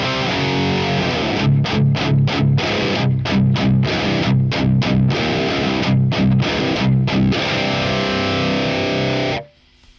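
An electric guitar through the Genome v1.8 amp plugin plays loud, high-gain distorted chugging riffs with sharp rhythmic stops, then cuts off abruptly near the end.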